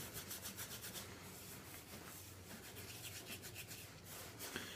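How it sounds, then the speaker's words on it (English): Beard product is squeezed and rubbed between two palms close up, a soft, steady swishing friction in a repeating back-and-forth rhythm. It is faint and continuous, with no speech. "take it and squeeze them in my hand just like this. I don't know if you can see it, but rub it in between my hands."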